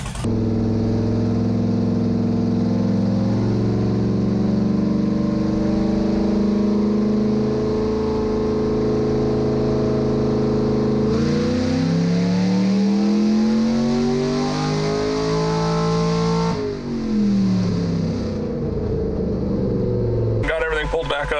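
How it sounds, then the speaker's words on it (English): A cammed 4.8L LS V8 in a burnout truck runs on a hub dyno, revving loud and steady with a rising pull, the engine note climbing and falling, then easing off near the end. "got everything fired up, put it in speed density, gonna make a pull here, just real easy"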